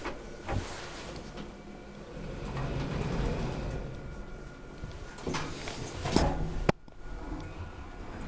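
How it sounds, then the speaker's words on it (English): A rare 2001 Otis GeN2 machine-room-less traction elevator in Malmi, Helsinki, slides its door shut with a mechanical rumble and rattle, ending in a sharp thud that leaves a quieter hum. "And you can close the door."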